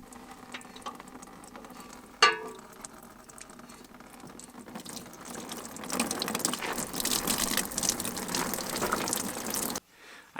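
Dirty coolant runs out of a school bus radiator in a steady pattering stream that swells louder midway, with a sharp clank early on, then cuts off abruptly near the end.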